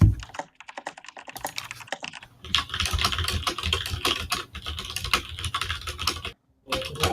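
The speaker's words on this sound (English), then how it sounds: "Sorry, waiting for typing." Rapid typing on a computer keyboard, close and crisp. Dense bursts of key clicks are broken by a few short pauses, with no talking.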